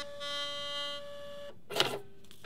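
Brother QL-820NWB label printer feeding and printing a label: a short whirring tone that stops, then a quick cutter snap and brief mechanical rattle, quiet and close.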